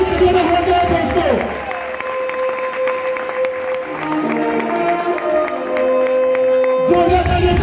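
An audience at a company event applauds as a guest is welcomed onto the stage. Sustained clapping and crowd noise continue beneath a loud announcer's voice and tonal background sounds.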